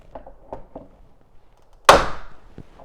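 A few soft taps and fumbling clicks, then one sharp, loud snap as a plastic clip breaks while removing a third brake light on a Toyota FJ Cruiser, followed by a faint tap.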